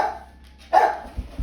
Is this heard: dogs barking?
yes